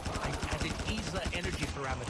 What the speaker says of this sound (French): vous avez une tourelle. Vous avez des tourelles canons aussi, des tourelles qui lancent des boulettes